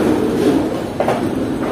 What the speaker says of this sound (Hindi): तो ये फाइनली प्लेटफॉर्म नंबर 2 छोड़ दिया है ट्रेन ने